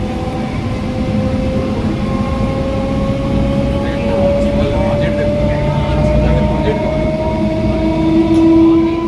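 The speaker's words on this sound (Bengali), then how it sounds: "এই যে ইঞ্জিনের আওয়াজগুলো" Engine of the Goghat local train near a loco shed, a loud continuous rumble with steady tonal whine and hum throughout, close by, without clear talk.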